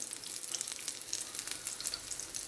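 An aloo bread sandwich fries in a pan, giving a continuous bright sizzle with crackling bursts, close and fairly quiet.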